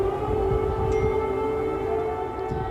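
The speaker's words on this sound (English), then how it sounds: "Air raid sirens warning people to take shelter" Air raid sirens wailing over Kyiv during a Russian missile and drone attack, a sustained steady tone heard from a distance with faint background rumble.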